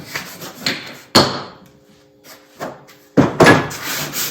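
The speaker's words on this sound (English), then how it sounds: "I like to give everything a quick sanding just to make sure we get the rough edges off of it all" Quick hand sanding on wooden beehive parts: several short, sharp rasping strokes, close and fairly loud, separated by brief pauses.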